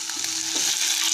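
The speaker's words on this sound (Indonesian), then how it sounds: "Ini selanjutnya proses penggorengan" Chicken pieces deep-frying in hot oil give a short, dense crackling sizzle at close range, with no voices.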